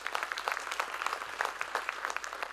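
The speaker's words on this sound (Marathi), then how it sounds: "एकदा या एअरफोर्सच्या मुलांसाठी पण जोरदार टाळ्या देऊया." A crowd applauds steadily at a lecture, many hands clapping in a dense, continuous burst that carries through without any talking.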